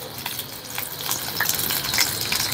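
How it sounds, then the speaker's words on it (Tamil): Onions and dried red chillies sautéing in a pan for a horse gram chutney, a steady close sizzle and crackle with faint stirring scrapes, no voices. "இது ஒரு வெங்காயம் காஞ்ச மிளகா போட்டு நல்லா இந்த மாதிரி கோல்டன் ப்ரௌன் கலரில் வதக்கணும்."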